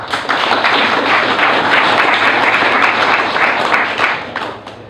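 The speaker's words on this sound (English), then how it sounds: "So why don't you give it applause for Luann." An audience at an agricultural technology summit applauds, giving a steady, dense wash of clapping for several seconds that thins out and fades near the end.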